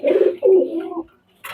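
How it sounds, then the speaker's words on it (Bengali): Pakistani highflyer pigeons coo in a loft, giving close, low, throaty bursts of cooing one after another before a short pause and a rustle. "এখানে কিছু রানিং কবুতর আছে"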